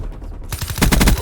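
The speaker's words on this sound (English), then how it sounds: "I just shot the C4 he threw at me and killed us both" Loud rapid automatic gunfire bursts in Black Ops 4, starting abruptly after a brief lull and building into a dense, fast rattle.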